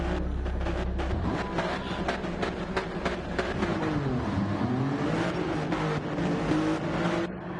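A BMW touring race car in a BTCC racing video game drives continuously and loudly, its engine note repeatedly rising and falling in pitch as it revs through gear changes.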